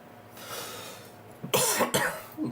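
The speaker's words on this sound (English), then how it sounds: "Why am I coughing so much?" A person coughs a few times in quick succession up close, loud bursts breaking a quiet indoor background.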